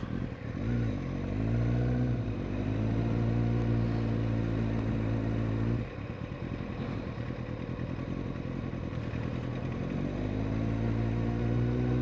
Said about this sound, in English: there's a lot of traffic going on here